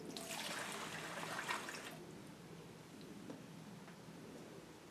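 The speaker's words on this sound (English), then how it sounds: "Okay, let's pour a little bit more in." Fuel poured into a snow blower tank during a fuel valve repair, a steady liquid splash and trickle for about two seconds that fades into a quieter dribble, with no talking.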